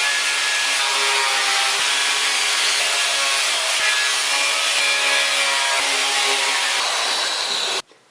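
A power saw cuts steadily through a workpiece during a tripod-mounted viewfinder build, a loud continuous whine that stops abruptly near the end.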